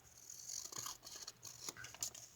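Scissors snip through a paper shopping list as its sides are trimmed away, giving a run of close, crisp cuts and crackling paper rustles.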